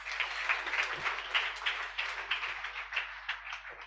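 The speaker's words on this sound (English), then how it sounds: "Clap us." A conference audience claps in Nairobi, a steady wash of applause with distinct individual claps standing out, moderately loud and continuous for several seconds.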